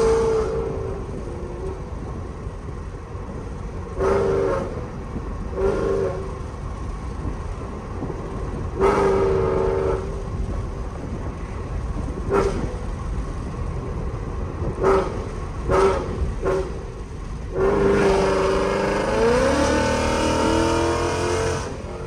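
A very loud Mustang with a catless Corsa exhaust accelerates hard from the driver's seat, with repeated bursts of throttle and quick shifts. A long, strong pull at the end sweeps up in pitch over a constant road roar.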